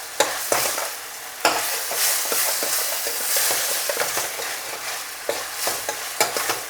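Onions and tomatoes being sautéed for dal palak tadka, with a loud, steady sizzle broken by repeated scraping and knocking strokes of a spoon against the pan.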